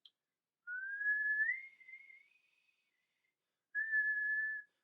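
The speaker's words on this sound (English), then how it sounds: "as you're whistling the higher pitches" Two solo whistled notes, close and clear: a long tone that slides upward and fades, then a short pause and a second steady high note, demonstrating higher pitches for horn practice.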